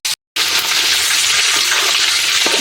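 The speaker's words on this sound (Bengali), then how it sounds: "দেখছো কিভাবে লাল লাল করে ভাজছি?" Chicken pieces fry in hot oil for a home chicken curry, giving a loud, steady hiss and crackle that runs almost unbroken after a brief gap at the start.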